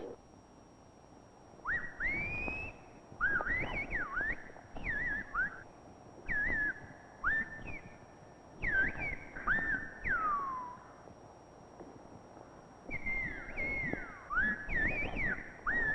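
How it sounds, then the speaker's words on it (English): Gomera whistled language, a telephone-like speech carried by whistling: a series of sharp, gliding whistled phrases rising and falling in pitch, separated by short pauses, fairly clear against a quiet background. "the Gomeras contrived an extraordinary form of telephonic speech, whistling"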